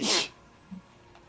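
A single sharp sneeze bursts out close by at the start, followed by a faint breath and near silence, heard during a livestream of the game Ōkami HD.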